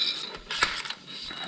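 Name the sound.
jack being taken out from under VW engine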